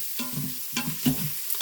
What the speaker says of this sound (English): Let's give that all a good mix.